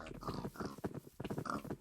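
Pigs grunting in a video game, with a busy run of overlapping snorts and grunts that continues throughout at close range.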